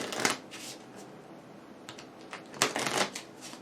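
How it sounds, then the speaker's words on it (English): A deck of combat cards for the Tainted Grail: Fall of Avalon board game being shuffled by hand, two close bursts of crisp riffling and card slaps separated by a short quiet pause, no talking. "So combat card advancements, what that means is I shuffle this up."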